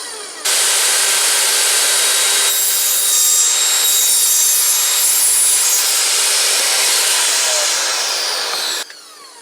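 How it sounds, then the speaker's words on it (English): A table saw whines loudly as its blade cuts through a plexiglass sheet, a steady harsh buzz lasting several seconds before stopping abruptly. "then use my table saw to cut them to size"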